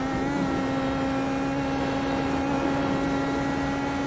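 A car runs flat out into sixth gear on the Nordschleife, its engine droning at a steady high pitch under sustained wind and road noise, heard from inside the cabin.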